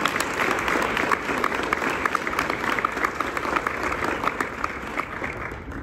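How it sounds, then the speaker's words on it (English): Sustained audience applause at a university graduation celebration, dense steady clapping from a large crowd throughout, fairly loud and continuous with no talk over it. "Can we please appreciate and have a round of applause?"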